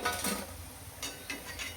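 Alu vadi slices frying in hot oil in a kadhai, a steady soft sizzle with light scraping and stirring clinks of a utensil against the pan, close and continuous.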